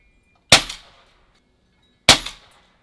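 Two sharp pellet impacts from an air rifle striking a target at night, each a crisp metallic crack with a short ringing decay, spaced about a second and a half apart with silence between.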